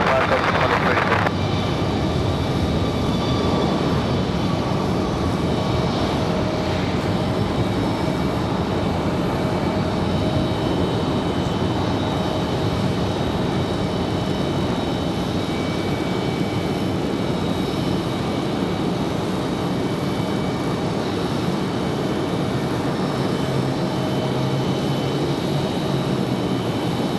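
A Delta airliner takes off from runway 5 left at Raleigh-Durham, a steady broad engine roar holding the whole time with a brief burst near the start, while tower radio and voices talk over it.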